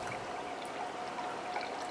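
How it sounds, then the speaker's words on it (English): Water streams steadily into a container for about two seconds, a continuous soft gurgling pour heard close and alone, measured out for packaging a freeze-dried cranberry pie mix. "So we're going to add 690 grams of water to bring it up to"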